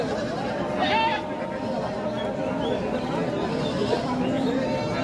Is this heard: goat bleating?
yes